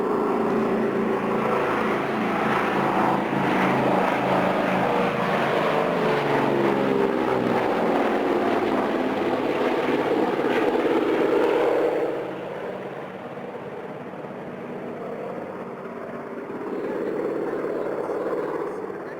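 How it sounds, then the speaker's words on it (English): A twin-engine RAAF DHC-4 Caribou makes a fast pass at around 140 knots, its propeller drone loud and steady as it approaches and then fading after passing, with no talk over it. "you're about to be demonstrated a fairly fast pass for a Caribou. This will be done approximately 140 knots"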